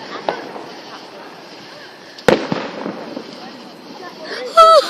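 Fourth of July fireworks burst outdoors among friends, one sharp nearby bang followed by scattered crackles and distant pops, with people talking and whooping over them.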